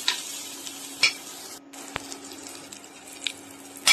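Onion, green chili, garlic and ginger are stirred in a frying pan, with a soft continuous sizzle broken by scattered spatula scrapes and clicks, close by and without speech.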